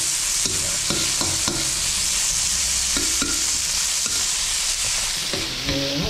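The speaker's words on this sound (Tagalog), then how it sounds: "haluin lang po natin hanggang tumakas po yung aroma niya" Chili being stirred in a hot cooking pan, a constant loud sizzle of frying with repeated scraping strokes of the utensil against the pan, close up.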